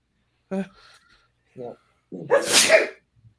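One sharp sneeze bursts out loudly near the microphone, with a few brief vocal sounds before it.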